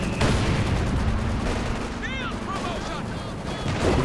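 Heavy mortar and artillery barrages from a Company of Heroes 2 Soviet match, dense overlapping booms and gunfire filling the mix, with whistling shell arcs cutting through and no voices.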